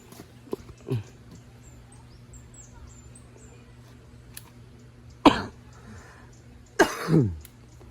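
A few scattered coughs break an otherwise quiet background, with a couple of louder, harsher bursts near the end.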